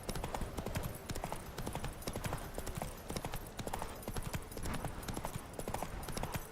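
Roach the horse trots along in The Witcher 3: Wild Hunt, a steady, fairly loud clip-clop of hooves repeating rhythmically throughout over a busy game soundscape.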